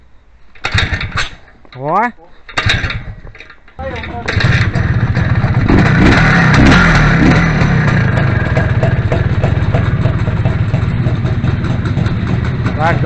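An IZh PS motorcycle engine fitted with a Bing 54 carburetor fires up after a few seconds of voices, then settles into a loud, steady, close idle that continues to the end while people talk over it.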